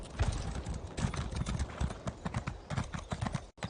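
Horse hooves from Elder Scrolls Online clip-clop in a quick, steady galloping rhythm, close and clear, with a brief dropout near the end.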